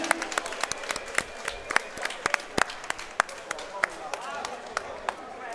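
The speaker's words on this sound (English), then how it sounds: "can we please have a big round of applause for both of our fighters?" Sustained clapping from a crowd after an amateur flyweight title fight, with dense, steady hand claps and sharp individual claps standing out, fairly close and loud throughout.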